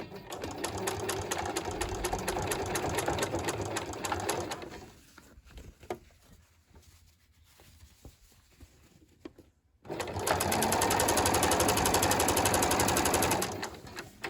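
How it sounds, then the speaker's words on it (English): A sewing machine runs in two loud, steady bursts while stitching a jeans inseam at 3.5 mm, with a quieter gap of handling noise between them. "I'm just going to sew around."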